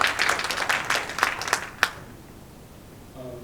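Audience applause at an investor forum, a burst of scattered clapping that thins out and stops partway through, followed by quiet room tone.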